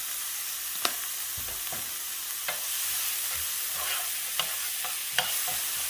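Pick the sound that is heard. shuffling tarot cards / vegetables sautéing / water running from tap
vegetables sautéing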